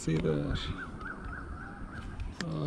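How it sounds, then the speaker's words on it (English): Crows caw in a repeated series of short, nasal calls at sunset near a van campsite, moderately distant, with brief human voice sounds at the start and end. "I don't know if you can see the birds are here."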